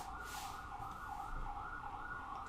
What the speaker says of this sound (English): Sirens outside.